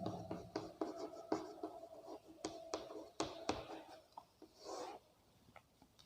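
Chalk or marker strokes on a classroom board, a series of short scratchy taps and rubbing strokes in uneven bursts, close and fairly quiet, with no talking.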